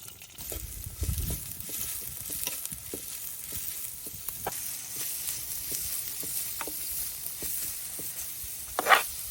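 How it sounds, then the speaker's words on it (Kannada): Onions and green chilies fry in coconut oil in a pan for a dry fish dish, a soft, steady sizzle broken by scattered spatula scrapes and taps, with a louder clatter near the end. "ಈರುಳ್ಳಿ ಮತ್ತು ಮೆಣಸು ಚಂದ ಮಾಡಿ ಫ್ರೈ ಆಯಿತು ನೋಡಿ"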